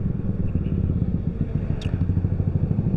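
An automatic scooter-style motorcycle climbs a hill near Cihideng, its engine droning steadily with a rhythmic, throbbing pulse close to the rider, with wind noise throughout.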